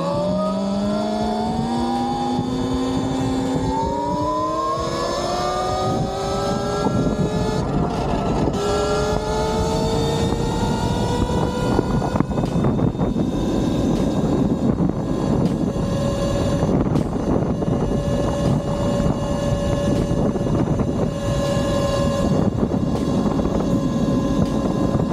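A Talaria XXX electric dirt bike with an upgraded Nucular P24F controller accelerates on a top speed run, its motor whine rising steadily in pitch over tyre and wind roar and holding a high, loud, continuous tone.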